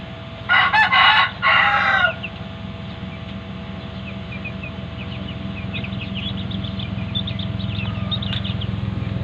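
Two loud, ragged crows from giant Brahma chickens come in quick succession close by, followed by a long stretch of faint, high chick peeping and soft clucking over a steady low farmyard hum.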